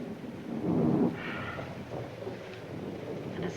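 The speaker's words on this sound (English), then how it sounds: "And it's still raining." Thunder rumbles under steady rain during a storm, a low swelling roll near the start then fading into continuous rain and wind noise.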